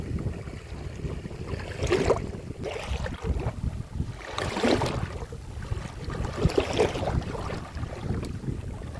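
Strong river waves slosh and slap against a rocking wooden fishing boat in the Sundarbans, a steady rushing water noise rising and falling in surges, with wind buffeting nearby and no voices.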